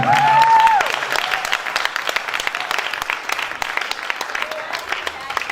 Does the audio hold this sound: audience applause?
yes